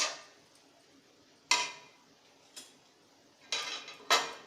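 Sprouted mung beans with lemon juice being mixed in a bowl, with a few separate clinks and scrapes of a spoon against the dish spaced out over a quiet background.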